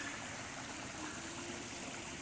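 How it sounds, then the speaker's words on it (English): Water trickling and splashing steadily in a small garden pond at a shopping plaza, a constant soft rushing wash with no pauses and no voices. "They've got a neat little pond."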